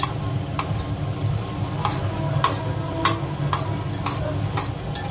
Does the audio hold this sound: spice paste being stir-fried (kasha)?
yes